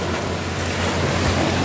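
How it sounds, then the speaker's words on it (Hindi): Strong ocean surf rolls and crashes along a beach in India, a loud continuous roar of water churning with wind buffeting the microphone and no voices. "लहरें, बहुत जोर की लहरें आती है।"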